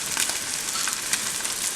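Slices of Spam sizzle steadily in a frying pan, a close, continuous crackling hiss with small pops, no talking over it.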